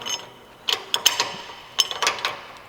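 Hardware clicks and metallic ticks from a bolt being fitted during assembly of a double hydraulic PWC lift, with a few sharp close knocks spread over a couple of seconds and no voices.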